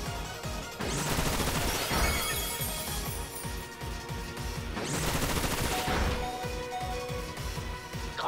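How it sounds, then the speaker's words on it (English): Bullet Seed attack in a Pokémon battle game, rapid rattling volleys of pelting impacts in two loud bursts over busy game music. "We see the Bullet Seed."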